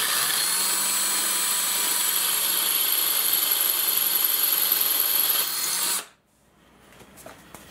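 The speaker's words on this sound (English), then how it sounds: "Make sure the drill is straight." A power drill with a tile bit whines steadily at high speed for about six seconds, enlarging a hole, then stops abruptly, leaving faint clicks and handling noise.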